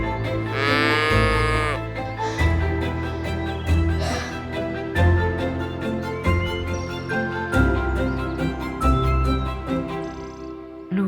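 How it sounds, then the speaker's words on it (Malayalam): A calf tethered in a yard moos, with cattle lowing drawn out over a steady musical background. Faint jingling sounds through the whole stretch. "മുറ്റത്ത് കെട്ടിയിരുന്ന പശുക്കിടാവ് ലൂക്കയെ കണ്ടതും സ്നേഹത്തോടെയും സങ്കടത്തോടെയും കരഞ്ഞു."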